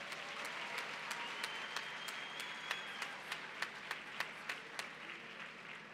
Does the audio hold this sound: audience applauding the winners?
yes